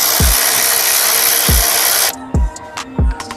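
A KIMO 12V cordless electric ratchet wrench, 3/8-inch drive, whirs loudly and continuously while running a bolt, then cuts off into a few sharp clicks and knocks from the tool.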